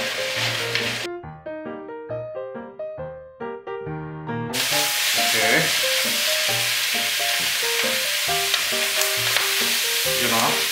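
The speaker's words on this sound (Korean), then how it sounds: "기름에 볶아지는, 튀겨지는 약간 이런 소리가 날 때까지 미역을 볶아줘야 맛있어요" Seaweed stir-fried in oil in a pot until the water cooks off, a dense, steady sizzle and crackle that swells loudly and continuously, following a stretch of soft tonal music.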